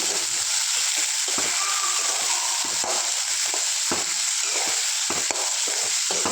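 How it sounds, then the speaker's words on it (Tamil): Onions sauté in a pan for potato kurma, lightly salted and cooked toward brown, giving a loud, constant sizzle with repeated scraping stirs throughout and no voices. "நல்லா வணக்கி விட்டுக்கோங்க நல்லா வணக்கிக்கலாம் ப்ரௌன் கலர் வரைக்கும்"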